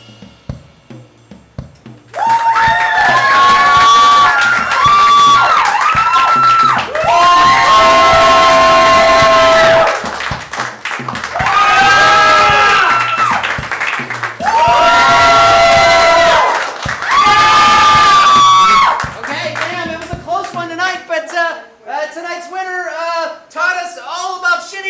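A live improv comedy audience roars and cheers in repeated loud bursts for a performer, with shouting and whooping swelling and dropping several times, then a quieter stretch of scattered voices at the end.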